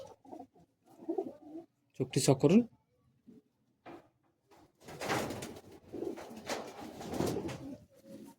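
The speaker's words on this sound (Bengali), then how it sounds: "এটি সিরা নর পায়রা আপনাদেরকে দেখাচ্ছি" Male pigeons coo in a loft, the soft calls mostly mixed under someone talking close to the microphone, with a brief louder burst of activity partway through.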